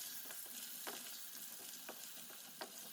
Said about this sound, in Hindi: अभी हम चिकन डाल देते हैं। चिकन को हमने 10 मिनट फ्राई करना है